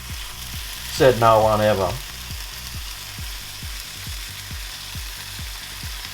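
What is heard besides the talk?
hash browns and bacon frying in a pan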